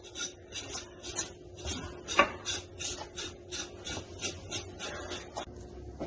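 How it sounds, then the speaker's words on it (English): A knife scrapes scales off a whole fish in a kitchen, producing repeated rasping strokes in an uneven rhythm, close and fairly quiet, with no talk. "I'm scaling it. I'm scraping all these scales off."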